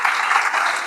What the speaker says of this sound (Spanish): Yo pido un fuerte aplauso para Él